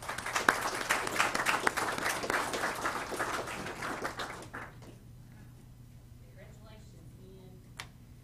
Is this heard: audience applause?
yes